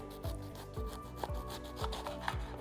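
A kitchen knife saws back and forth through a bell pepper, about six soft rhythmic rasping strokes with faint thuds, quiet and close with no voices.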